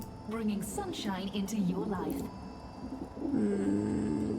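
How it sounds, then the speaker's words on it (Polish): Pigeons coo softly in repeated low calls in the video game Dreamfall Chapters, mixed with game background noise and some chatter, fairly close and steady. "Tutaj gołębie, te."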